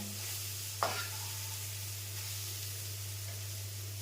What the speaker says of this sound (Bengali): তেলটা গরম হলে 1 চামচি দিয়ে চিনি দিয়ে দেবেন